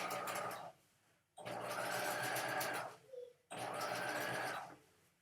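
A domestic sewing machine understitches a bias facing along a neckline in three steady motor bursts separated by short pauses, with a faint click between the last two runs, close and moderately loud.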